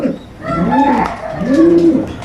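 Racing pigeons coo close by, two rolling coos in quick succession over faint background noise.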